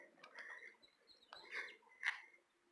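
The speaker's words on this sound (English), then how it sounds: "birds are chirping about" Spring birds chirp outdoors on a sunny day, a few short bright calls and tweets spaced over a quiet background, fairly close and clear.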